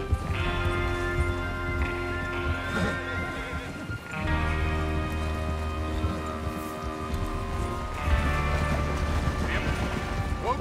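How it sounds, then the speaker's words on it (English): Horses galloping and whinnying in the Red Dead Redemption 2 video game, a steady rush of hoofbeats under a dense orchestral music bed, with neighs rising loud and near throughout. "Get your horses ready."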